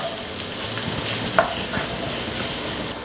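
Sliced onion fries in a pan for okra fry alongside ginger and green chilli, producing a close, steady sizzle with light stirring scrapes and a brief clink, no voices.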